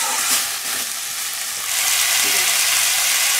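Chicken coated in masala frying on low-medium heat while being stirred, a steady close hiss of sizzling that swells slightly louder partway through, with no talking.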